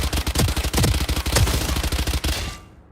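Rapid automatic gunfire in the Valorant shooter game during beginner aim practice, loud bursts of closely spaced shots that stop abruptly near the end.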